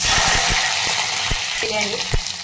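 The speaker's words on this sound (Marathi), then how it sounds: "शेंगदाणे तेल टाकून घेत आहे" Peanuts frying in peanut oil in a pan, a steady close sizzle with crackling and a few soft stirring knocks and clinks throughout, made while preparing a spicy peanut chutney for fasting.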